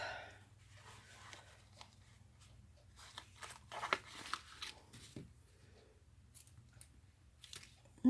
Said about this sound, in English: It's not my ribbon scissors